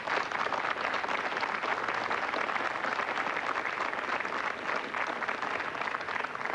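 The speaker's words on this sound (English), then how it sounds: "That deserves a round of applause." A room at a pub quiz night breaks into a sustained round of applause, dense crowd clapping holding steady and fairly loud throughout with no talk on top.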